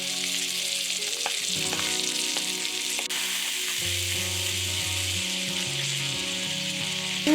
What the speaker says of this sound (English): So we're going to sear these steaks on really high heat for about a minute